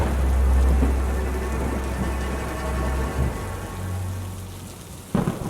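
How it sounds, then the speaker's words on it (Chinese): Heavy rain pours down in a thunderstorm at night, a dense steady roar of drops with low thunder rumbling through and a sharper crack near the end. "我记得当天晚上外面正在打雷暴雨"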